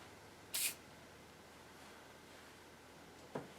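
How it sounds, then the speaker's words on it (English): WD-40 sprayed onto a towel for cleaning a copper lap: one short, sharp aerosol hiss near the start, then a fainter brief puff near the end over quiet room noise. "So you just get a towel, add some WD-40."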